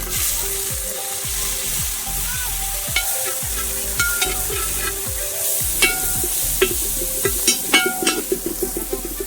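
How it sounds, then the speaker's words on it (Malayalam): Onion, tomato, green chilli, ginger and garlic sauté in a hot pan, sizzling continuously while a spatula stirs in repeated rhythmic scraping strokes, close up with no talking. "കുറച്ച് ഉള്ളിയും കുറച്ച് തക്കാളിയും ഒരു പച്ചമുളകും കുറച്ച് ഇഞ്ചിയും വെളുത്തുള്ളിയും"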